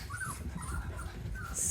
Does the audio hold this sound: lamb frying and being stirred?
no